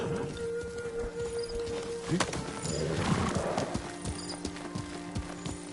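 A horse in the video game Ghost of Tsushima gallops with steady clip-clop hoofbeats and whinnies partway through. Game ambience and music run underneath, and there is little speech.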